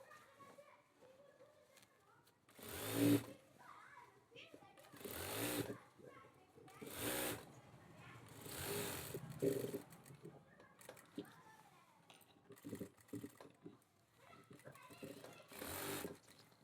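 A sewing machine stitches a shirt at a tailoring table, running and reversing for a double stitch, in several short loud bursts separated by quieter pauses with faint background noise.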